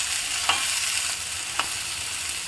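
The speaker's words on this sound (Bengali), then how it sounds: "এবারে বিনস, এই সবজিগুলো সব একসঙ্গেই ভাজবো" Beans and mixed vegetables fry together in a pan for vermicelli vegetable pulao, giving a steady close sizzle with two soft stirring knocks. No one speaks.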